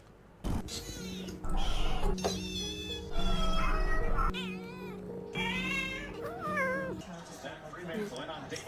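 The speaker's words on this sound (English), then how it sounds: "Quick kitten rescue." A kitten meows repeatedly in high, wavering cries during a quick rescue, several separate calls over a steady background hum, with indistinct voices at times.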